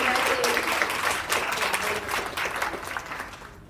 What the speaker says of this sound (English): Big round of applause for our graduating seniors.